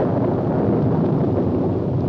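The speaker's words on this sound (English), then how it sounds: "I hear thunder, but I see no clouds" Low, continuous thunder rumbling from the 1968 film Night of the Living Dead, a steady, loud roll filling the whole moment with no distinct crack and no voices.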